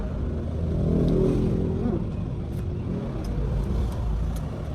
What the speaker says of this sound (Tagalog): Ang ingay naman ng sasakyan eh.